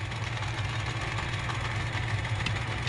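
A 1950s South Bend metal lathe running under power feed, a steady continuous mechanical hum and drone with no break, fairly close and moderately loud.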